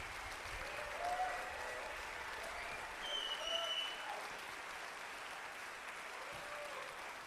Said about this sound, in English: Huge round of applause for an excellent performance in this tournament